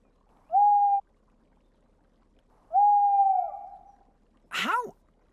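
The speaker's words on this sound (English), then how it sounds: "Hoot of owl coming up." Cartoon owl hoots: two drawn-out, steady tonal hoots, the second trailing off, followed by a short swooping cartoon sound effect, loud and clear with no talk.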